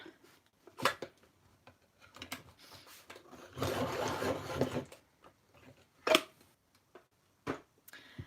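A colored pencil is sharpened at a desk during a coloring session: a dense, grinding burst of about a second in the middle, set among scattered small clicks and taps.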